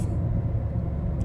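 A car driving in a video game, heard as a steady low engine rumble with road noise from inside the vehicle, moderately loud and continuous with no talking.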